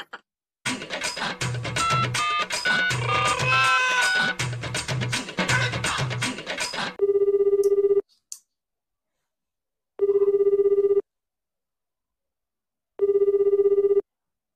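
Landline-style telephone ringback during an outgoing call, heard as a burst of dial tones followed by three loud, evenly spaced ring pulses separated by silence.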